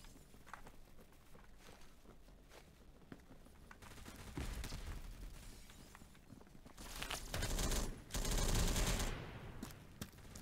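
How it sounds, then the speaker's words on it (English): Gunfire from a round of the Roblox shooter Phantom Forces: scattered shots and bursts through the first half, then louder, denser automatic fire near the end, with no talk over it. "I don't know who Bucko's shooting at."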